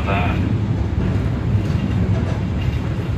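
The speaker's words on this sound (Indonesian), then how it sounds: "Yang di sebelah itu kereta api Doho 352 tujuan dari Surabaya Kota ke Blitar via Kertosono" The Dhoho 352 passenger train, running from Surabaya Kota to Blitar via Kertosono, rumbles low and steady nearby, with faint rail clatter and a brief high squeal at the start.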